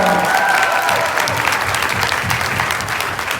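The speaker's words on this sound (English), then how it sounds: "Can you have a round of applause?" A school audience at Cathedral High School gives a steady, dense round of applause that holds loud and unbroken for the whole stretch, with some faint crowd noise mixed in.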